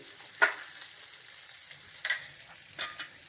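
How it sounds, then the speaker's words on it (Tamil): Onions sauté in a pan over a medium flame, a faint soft sizzle broken by a few brief stirring scrapes, quiet and without talk. "இது நல்லா மீடியம் ஃப்ளேமில் வதங்கிட்டு இருக்கட்டு"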